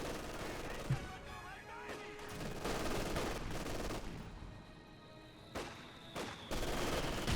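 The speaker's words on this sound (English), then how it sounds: "Mortar opening fire. MG kind of holding out." Mortar and machine-gun fire in the Company of Heroes 2 strategy game, with bursts of gunfire and thuds over a busy battlefield rumble, mid-distance and fairly steady.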